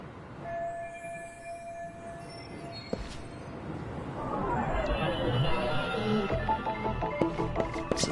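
Inside a moving commuter train in the game Lost Judgment: a steady rumble of wheels and car noise, with rising squeals and tonal whines building toward the end and faint passenger chatter in the background.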